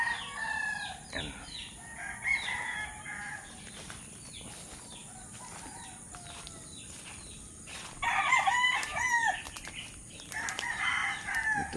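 Roosters crow in a gamefowl breeding pen, several calls rising in bursts with wing flaps and clucks scattered between them over a steady outdoor hiss, loudest near the end.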